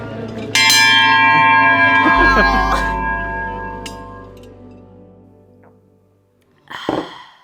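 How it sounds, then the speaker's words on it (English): A heavy bell struck once after a 10km race, a loud metallic clang with a long ringing decay that fades over several seconds, followed by a brief outburst of voices. "I've got to go ring the bell"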